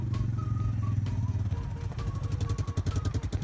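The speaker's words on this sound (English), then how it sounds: "One last wheeler ride with the brothers." A four-wheeler rides along, a close rumbling engine with rhythmic pulsing and clatter that grows choppier toward the end, with faint voices in the background.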